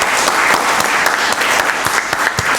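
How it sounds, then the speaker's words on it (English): Steady, dense audience applause at a Rockdale County Board of Commissioners meeting, loud and close, with many hands clapping continuously throughout. "I want to give Dr. Terry Oates a round of applause and the members of the Rockdale County Board of Education."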